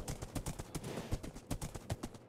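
Rapid, rhythmic clip-clop of Minecraft horse hooves galloping, steady and fairly close, continuing throughout with no voices.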